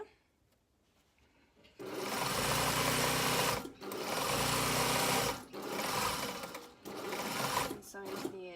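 A sewing machine runs in three loud, steady bursts while stitching a garment hem to the edge, with short pauses between runs and a voice speaking briefly before it starts.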